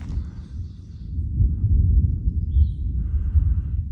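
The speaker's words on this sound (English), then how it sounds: "I don't know if you can hear that or not, but that's thunder." Distant thunder during a hike, heard as a low, steady rumble that swells in the middle and lingers without any sharp crack.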